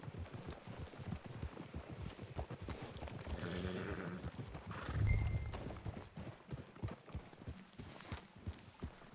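Horse hooves clip-clop in a steady rhythm in Red Dead Redemption 2, with a brief snort or whinny midway, set against quiet game ambience.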